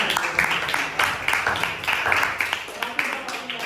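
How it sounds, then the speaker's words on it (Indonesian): Students in a classroom clap for a group, producing a rhythmic burst of applause with regular, closely spaced claps over a brief stretch. "Tepuk tangan nak kelompok 3 ya."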